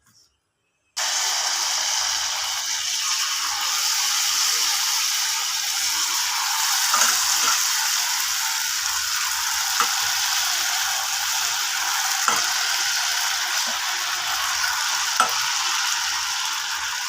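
Palapalam sweet buri batter dropped into hot oil: after a moment of silence a steady, loud frying hiss starts and continues evenly, broken only by a few small clicks and pops, with no talking.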